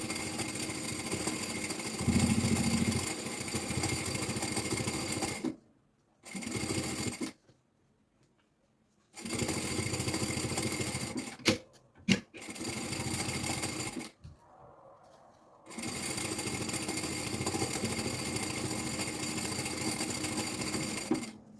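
Close sewing machine topstitching over an existing seam on a preschool backpack, whirring in several long steady runs broken by brief silent pauses and a few sharp clicks.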